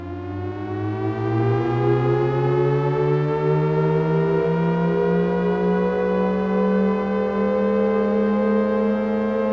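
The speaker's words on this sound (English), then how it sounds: "Sounds kind of like a siren, doesn't it? Kind of factory alert, like red alert, red alert." A steady siren-like synthesizer tone through a Befaco Morphader module, with rich harmonics, slowly rising and sustained, loud and continuous without any voices.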